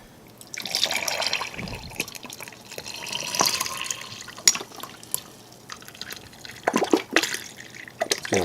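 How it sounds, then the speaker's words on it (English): Water from a tap runs and splashes into a cup being filled for Tropical Punch beverage powder from a First Strike Ration, a steady trickle with drips and gurgles that slows and stops, then resumes in short spurts, close and alone. "Let's back off on the water just a little bit so I don't overflow the cup."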